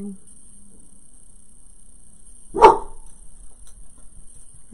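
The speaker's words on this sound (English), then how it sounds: "Are you barking at Lucy, who's upstairs?" A single sharp dog bark rings out in an otherwise quiet room, with faint rustling before and after.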